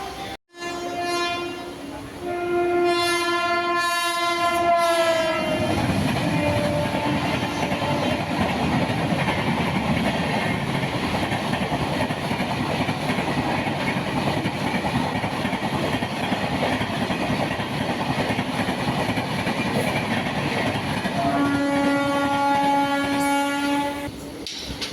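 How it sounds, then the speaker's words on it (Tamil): A train horn sounds, then an electric commuter EMU train departs Tiruvallur and rolls by with a steady loud rumble and clatter, and the horn blares again near the end. "நம்ம வண்டி கரெக்டாக திருவள்ளூர்லேருந்து 8 மணிக்கு புறப்பட்டாச்சு."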